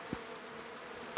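Honeybees buzz around a beekeeper in a continuous, fairly faint hum, with a couple of brief closer passes standing out against the steady drone.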